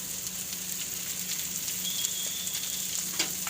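Pasta ingredients with turmeric sautéing in hot oil give a steady, close sizzle and frying crackle, with occasional sharper pops and stirring scrapes throughout.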